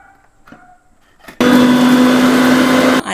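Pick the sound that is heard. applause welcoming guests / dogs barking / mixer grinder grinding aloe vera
mixer grinder grinding aloe vera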